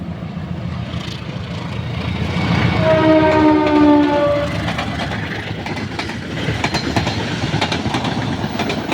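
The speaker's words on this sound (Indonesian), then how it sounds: "Oke, dari sini ada kereta api" A train passes close by at an Indonesian railway crossing, a long sustained multi-tone horn blast sounding over the loud rumble and clatter of the rail cars, which continues steadily after the horn ends.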